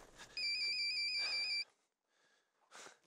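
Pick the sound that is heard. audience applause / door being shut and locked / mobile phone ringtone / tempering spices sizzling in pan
mobile phone ringtone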